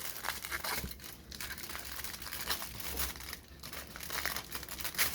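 A sheet of aluminium foil is handled and cut, giving faint, close crinkling and rustling with brief tearing crackles in uneven bursts.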